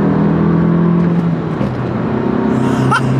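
A 140hp Alfa Romeo MiTo engine pulls hard under acceleration, a loud close drone that climbs through the revs, dips at a gear change and keeps rising, heard from inside the car.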